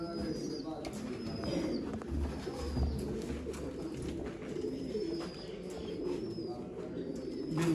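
Pigeons coo with low, soft, throaty calls at a pigeon loft, mixed with faint bird chirps and murmuring voices in the background, continuing steadily throughout.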